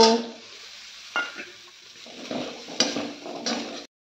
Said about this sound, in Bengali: ডাঁটাগুলো দিয়েও আমি মশলার সঙ্গে ভালো করে 1 মিনিট কষে নিয়েছি